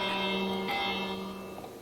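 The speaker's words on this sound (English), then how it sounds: "Let's ring the bell one more time." Bell rung in a Minecraft camp world by a lake, one loud clear strike with a sustained ringing tone that slowly fades, heard alone.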